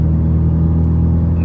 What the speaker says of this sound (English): I'll just cut to clips of how the exhaust sound.